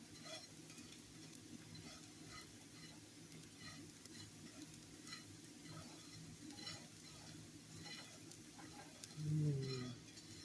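Instant rice sizzles and crackles in melted butter in a pan on a stove over medium-high heat, a quiet steady frying hiss with occasional stirring scrapes and a brief louder clunk near the end.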